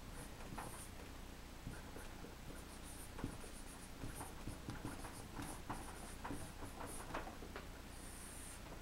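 A pen sketching a signal graph on paper, with quiet close scratching strokes coming in short irregular bursts, faint and alone.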